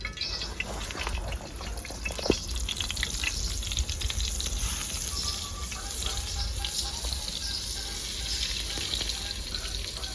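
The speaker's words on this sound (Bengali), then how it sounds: "তেলটা গরম হয়ে গেছে, বেগুনটা ভেজে দেবো।" Slices of eggplant frying in hot white oil give off a steady, dense sizzle that runs unbroken throughout, close and fairly loud, with a few faint clinks mixed in.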